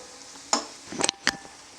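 Small dried shrimp drop into a pan of bheto greens, giving a few quick close sizzling bursts and scraping stirs in under two seconds, alone against a quiet background.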